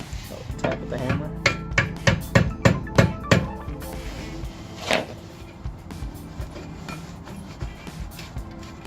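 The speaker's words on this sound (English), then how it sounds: "Tap with the hammer." A hammer taps repeatedly on a rear brake part of a 2010 Chrysler Sebring during a brake replacement, a quick run of sharp metallic knocks followed by slower, scattered strikes, close and fairly loud.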